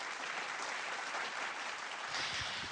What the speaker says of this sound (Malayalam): നമ്മുടെ chorus and sing birds orchestra ഒരു വലിയ കൈയടി കൊടുക്കാം അവർക്ക് എല്ലാവർക്കും.